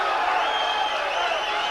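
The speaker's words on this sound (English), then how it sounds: "Draws some cheers from the crowd." Crowd at a Larry Holmes vs Art Card boxing match cheering steadily, a broad continuous roar of voices with scattered whoops, fairly loud throughout with no clear break.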